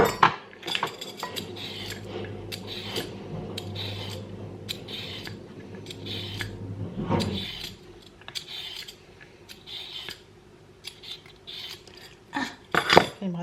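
Grating by hand on a sharp kitchen grater, making steady scraping strokes with light metallic clinks, close and fairly loud. Brief bursts of speech come between the strokes.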